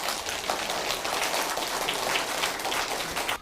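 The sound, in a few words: audience applause for the two hospital directors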